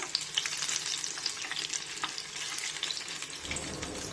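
Ridge gourd bhaji deep-frying in oil over low-to-medium flame, with a soft continuous bubbling sizzle and a few light taps as the fritters are flipped.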